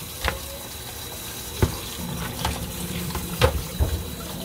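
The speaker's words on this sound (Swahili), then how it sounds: "Naenda kufungua maji" Tap water pours steadily into a fish bowl while fish is being washed with vinegar, a continuous splashing rush with a few sharper drips and knocks over the flow.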